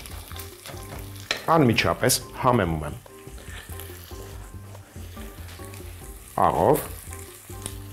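Onion fries with a steady sizzle and stirring in a pan while salt goes in, as a voice talks over it in short bursts.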